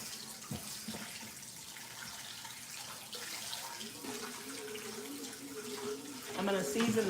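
Tap water runs into a kitchen sink as a container is rinsed out, a steady, fairly quiet splashing stream with some clattering toward the end.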